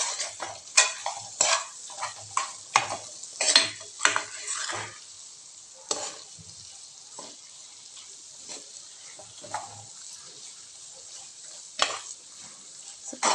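A spatula stirs meal maker fried rice ingredients with salt and turmeric in a frying pan, making a series of scraping, clinking strokes over a soft sizzle, busy at first and then sparser.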